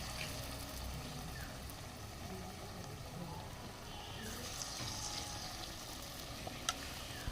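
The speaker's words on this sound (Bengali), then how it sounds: "তারপরে হচ্ছে বেসন দিয়ে এই যে ভেজে নিচ্ছি" Potato and egg chops frying in gram flour batter make a steady, moderately quiet sizzle that stays even throughout, with a couple of faint clinks near the end.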